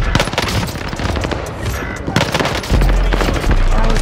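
Automatic weapons chatter in rapid bursts in a Call of Duty Warzone match, loud and close, with heavy booming impacts near the end; no talk over it.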